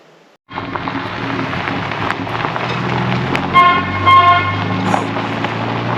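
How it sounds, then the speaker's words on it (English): A Jeep's loud air horn blares twice in short blasts over the steady rumble of its engine, close and harsh. "the air horn in that thing is awful"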